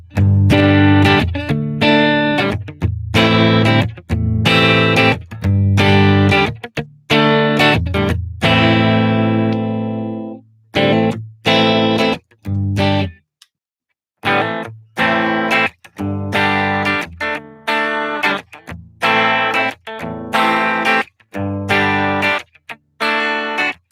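An electric guitar plays chords and short riffs through a warm, slightly overdriven Princeton Reverb amp model on a Headrush unit, volume cranked, with rhythmic stops and a brief pause midway.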